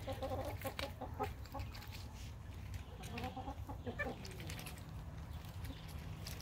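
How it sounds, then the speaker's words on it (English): A pet duckling feeding on watermelon, with steady soft clucking, peeping calls close by over a constant low hum, busy and continuous throughout. "My baby ducky loves watermelon."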